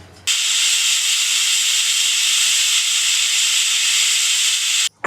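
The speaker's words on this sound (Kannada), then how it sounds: "ಈಗ ಒಂದು ವಿಷಲ್ ಕೂಗಿದೆ." A pressure cooker whistles while sprouted horse gram cooks, giving one loud, steady steam hiss that runs unbroken for nearly five seconds and then cuts off abruptly.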